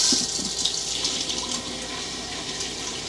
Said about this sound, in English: you put it in there and you add some water to it